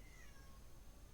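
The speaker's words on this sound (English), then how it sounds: "Oh, that's my cat again." A house cat meows softly in the background, a faint drawn-out call rising above a steady low room hum, with no talking.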